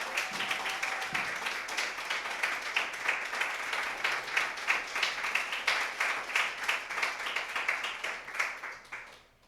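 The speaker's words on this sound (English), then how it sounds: "Round of applause." Audience applause at a Blackluvfest Black Lives Matter tribute kickoff event, a steady burst of many hands clapping sustained for several seconds before tapering off at the end.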